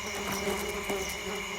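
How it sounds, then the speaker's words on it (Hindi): Flies buzz steadily and faintly in the background outdoors, a thin continuous hum with no voices over it. "पीछे से मक्खियों की आवाज़ आ रही है।"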